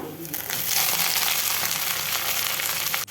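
Chopped kharkhol (ghatkhol) leaves hit a pan of reddened, fried ingredients for a Bengali leaf paste, giving a dense, steady frying hiss with crackle that holds loud throughout and briefly dips near the end.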